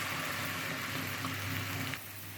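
Balls of food dropped into hot oil in a kadai, a steady close bubbling fry throughout that dips slightly near the end.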